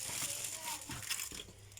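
A heat-resistant plastic bag crinkles and rustles as it is opened, a close, busy crackle with a few sharper crunches.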